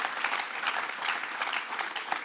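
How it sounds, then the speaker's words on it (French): Applause from an audience at a business awards ceremony: moderate, steady clapping of many hands that continues evenly throughout. "Bravo, oui, ça s'applaudit"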